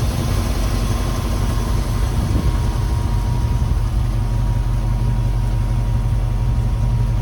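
Ford F100 pickup truck engine idling steadily after a cold start on a 33-degree morning, a continuous low rumble with an even drone and no talk.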